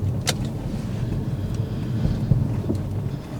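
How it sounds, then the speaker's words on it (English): A Lexus SC430 with the roof up, driven in normal mode through a tunnel, gives a quiet, steady low engine and road rumble with a faint airy hiss and no voices. "I'm going to put it onto normal, and you will see how quiet the car has become"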